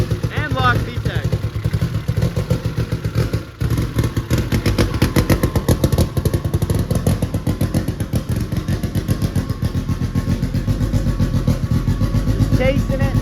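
Honda CRX engine running on E85 fuel, revving hard as VTEC engages, a loud, raspy mid-pitched engine roar close by with rising surges and a brief dip midway, running continuously through the clip.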